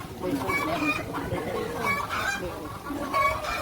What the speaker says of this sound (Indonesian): Ayam umur 1 hari.